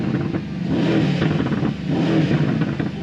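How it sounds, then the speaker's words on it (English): A 2018 Mercedes-AMG C63S in race mode revs loudly close by, its exhaust throbbing and rising with rough crackling bursts across a few seconds. "So if we go to race, we have crackles as well."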